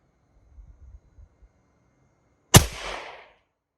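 An Edgun Leshiy 2 .25 caliber air rifle with a shroud kit fires one loud, close shot after a few soft handling thumps, then a brief ringing decay.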